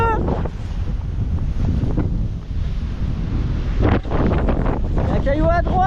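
A Mini-class offshore sailboat races at 10–11 knots between rocky islets, with steady wind buffeting and rushing water and spray close by. Brief speech breaks through near the end.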